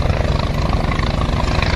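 A passenger helicopter on the Amarnath Yatra route near Baltal, Kashmir, fills the clip with a loud, close, continuous rotor chop and turbine roar. No one speaks.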